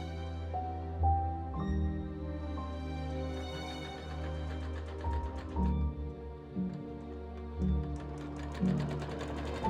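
Sewing machine running a long straight basting stitch through a muslin mock-up of an Elizabethan fencing doublet, a steady mechanical whirr in several close, loud bursts separated by short pauses.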